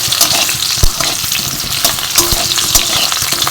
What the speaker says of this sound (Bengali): মাছের আলুটাকে ভেজে নেওয়া যাক